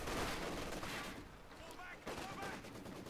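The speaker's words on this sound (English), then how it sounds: "I heard the rifle grenade shot," Rifle grenade fired in Company of Heroes 2, a dense burst of battle noise with sharp gunfire-like cracks and rumble, loud and continuous over the full clip.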